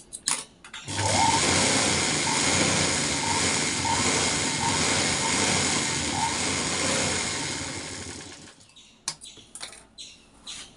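A sewing machine runs steadily, stitching a girls' uniform shirt along the buttonhole side, a continuous close whir for about eight seconds before stopping, followed by a few soft handling clicks.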